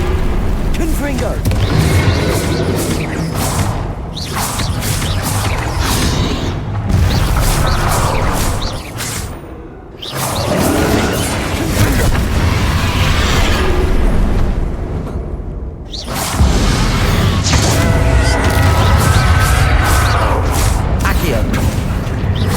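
Confringo fire spell blasts cast in combat in the video game Hogwarts Legacy, with loud repeated explosive bursts and rumbling booms layered with other spell effects, dropping briefly into near silence between flurries.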